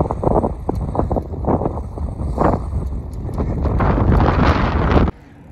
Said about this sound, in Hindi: खूब ठंडी तेज़ हवा चलती है।